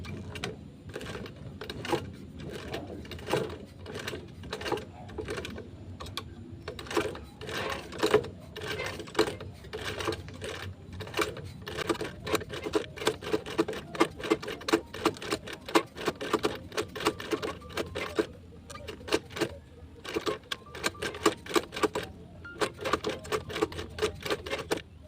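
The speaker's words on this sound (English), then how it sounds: "I'm going to back stitch." Sewing machine back stitching a bag seam, a fast, steady mechanical chatter of needle strokes that runs throughout, faint and close.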